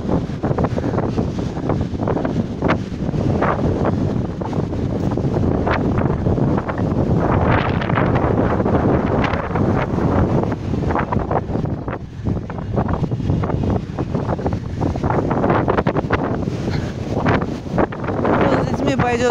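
Strong, steady wind roars and buffets the microphone on a beach at Nha Trang during a sea storm, with surf rumbling underneath; continuous and loud throughout.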